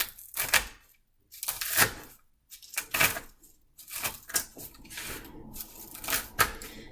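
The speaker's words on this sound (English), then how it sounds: "My big flat knife. Just going to kind of cut these up a little." Big flat knife chopping herbs on a board, with quick bursts of close, crisp cutting and tapping strokes separated by short pauses.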